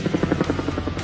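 A Vietnam War era military helicopter sounds close and loud, its rotor thumping in a fast, steady rhythm over an engine drone.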